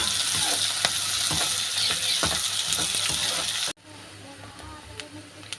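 Onion, dried red chillies and curry leaves frying in oil as a tempering for curry leaf rice: a loud, even sizzle with stirring scrapes, then a sudden drop to a much quieter simmer with a few faint clicks.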